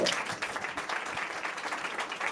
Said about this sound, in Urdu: یسوع کے لیے زوردار تالیاں